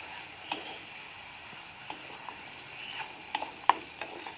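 Sweet tempeh with onion or shallot and garlic is stirred in a pan, faint sizzling beneath a handful of soft scrapes and clicks from the utensil, with a sharper knock near the end.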